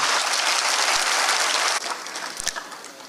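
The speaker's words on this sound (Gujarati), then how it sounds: "ભાઈ ખલીલ સાહેબ માટે જોરદાર તાળીઓ થઈ જાય" Brief, strong applause from an audience honoring a poet at a literary gathering, steady clapping that drops off sharply partway through, leaving a few scattered claps.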